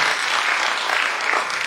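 Dense audience applause in a hall as a guest is welcomed onto a stage at a ballet performance, a brief continuous wash of many hands clapping with no talk over it.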